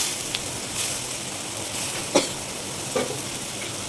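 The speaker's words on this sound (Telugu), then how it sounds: "కరివేపాకు వేసుకుంటున్నానండి." Curry leaves dropped into hot oil give a steady, moderately loud sizzle across the whole stretch, with a few sharp pops and crackles standing out, while mirchi pesarapappu is being cooked.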